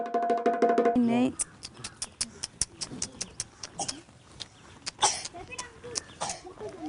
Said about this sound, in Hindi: अभी तक इसकी खांसी बंद ही नहीं हुई है।